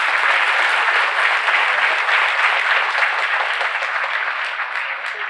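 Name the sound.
applause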